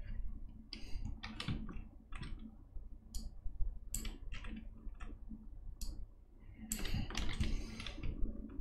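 Rapid typing on a computer keyboard, close and steady, with bursts of key clicks and short pauses between runs, over a low background hum with no talking.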